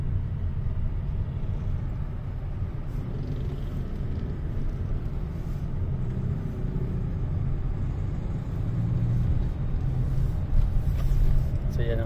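A delivery car drives along a winding zigzag road with light traffic, giving a steady low engine and tire rumble that holds throughout at a constant level, close and continuous.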